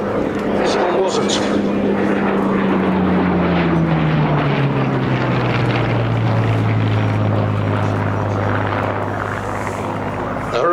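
Hawker Hurricane Mk.I, a Battle of Britain veteran, at an air and car show: a loud, steady piston engine and propeller drone with a slowly falling pitch as it passes, continuous throughout, with talk over it.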